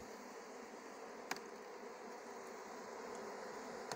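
Steady buzzing of many bees close by, a dense continuous hum with a couple of faint clicks.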